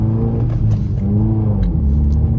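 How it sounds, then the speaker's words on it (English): A manual car's engine revs steadily as it moves through the gears, a loud, close droning hum with a rising and falling pitch that holds level, no talk over it. "I push my RPMs up high"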